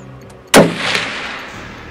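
A single loud gunshot fired at a deer while hunting, a sharp crack followed by a long rolling echo fading out, after a quiet moment.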